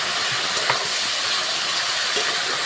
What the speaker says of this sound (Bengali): এরপর দিয়ে দিচ্ছি এর মধ্যে একটু জল